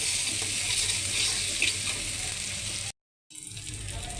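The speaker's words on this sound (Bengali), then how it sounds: "এই যে পেঁয়াজ দিয়ে দিলাম, পেঁয়াজ ভাজা ভাজা হয়ে যায়," Onions frying in a pan give a steady, loud, close sizzle that runs unbroken, cuts out briefly near the end, then resumes. No one speaks.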